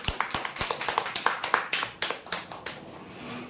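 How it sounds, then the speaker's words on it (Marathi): A small audience at a weekly prize draw claps for the winners in a quick run of sharp, separate claps that thin out and fade after a few seconds. "जोरदार टाळ्या होत्यासाठी"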